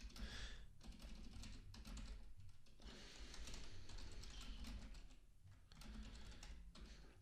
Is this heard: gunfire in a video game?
no